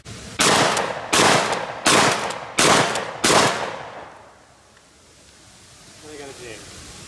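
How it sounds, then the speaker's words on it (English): Five rapid gunshots from a 30-06 with an extra full choke, fired as fast as possible at a target, evenly spaced and loud, followed by a quiet tail with faint voices near the end. "I am going to rapid fire that target as fast as I can at this distance"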